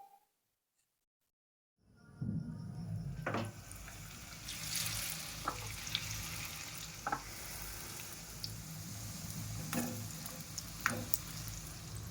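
After a moment of silence, a continuous sizzle of banana blossom chops frying in oil starts up and keeps crackling, with occasional clinks and pops.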